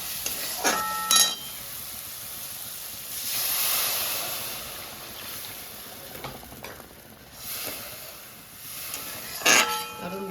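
Spice paste for a tengra fish curry fries in oil in a pan, giving a steady soft sizzle and hiss with occasional stirring scrapes and a few sharper utensil clinks.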